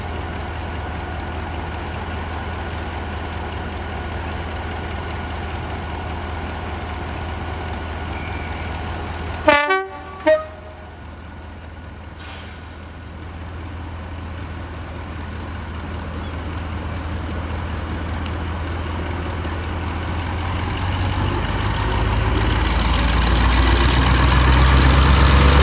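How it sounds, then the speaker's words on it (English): Diesel locomotives D7017 and D6575 coupled as a double header, heading off toward Minehead at a heritage railway diesel festival, a low engine drone swelling steadily toward the end after a pair of short sharp blasts near the middle. "they've managed to hook up D7017 and, along with D6575, is now forming a double header loco train service towards Minehead."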